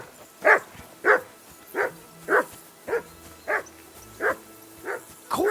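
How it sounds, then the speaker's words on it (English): A dog in the video game Kingdom Come: Deliverance 2 barks in a steady series of about nine single woofs, evenly spaced roughly every half second, fairly close and clear with no talking. "Call that dog, Henry."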